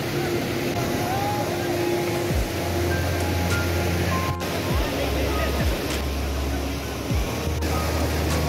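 Rushing water at Bhushi Dam in Lonavala, a steady broadband roar filling the whole clip with a few low thumps, heard close and loud over wind-like noise.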